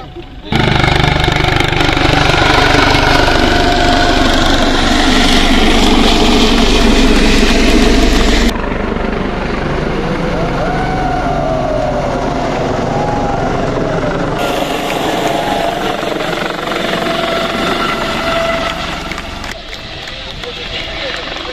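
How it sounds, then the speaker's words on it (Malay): A helicopter runs with a steady, loud rotor and engine drone that holds throughout, easing slightly in level partway through, with voices talking over it. "Oh, lawan helikopter."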